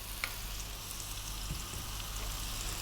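Curry leaves sizzle in hot oil in a pan while pumpkin rice is being cooked, making a steady, close frying crackle throughout with no voices.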